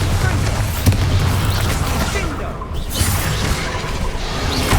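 Bombarda and Confringo spell explosions in Hogwarts Legacy, a rolling series of loud booms with whooshing bursts that keep up a dense, unbroken battle din, one sharper blast standing out near the start.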